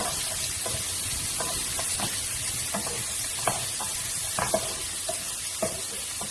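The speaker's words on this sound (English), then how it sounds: "so then I'm adding onion as well. And then just let it cook" Onion fries in a pan for pasta with a continuous hissing sizzle, punctuated by repeated light scrapes and taps of a stirring utensil.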